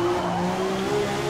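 BMW M1 Procar in Forza Motorsport with its wheels locking, a steady tonal tyre squeal riding over the loud engine drone, brief and continuous.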